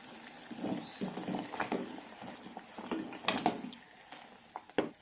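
Jalebi sugar syrup with cardamom powder and food colour is mixed in a pan, soft clinks and scrapes of a spoon against metal coming in short irregular bursts, quiet and close.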